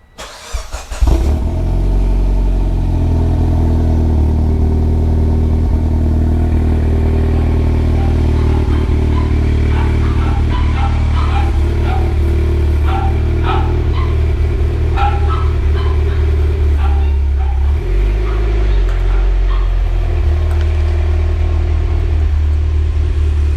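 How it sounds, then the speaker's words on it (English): A Mitsubishi Lancer Evo X engine semi-cold starts with a sharp crank and catch, then settles into a loud, steady idle that runs on with a slight dip and swell in the rumble near the end. "start the car up now"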